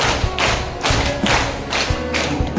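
A counted clapping game at a Ramadan gathering: groups of children clap in short patterned bursts, several crisp strikes spaced in a steady rhythm against room noise.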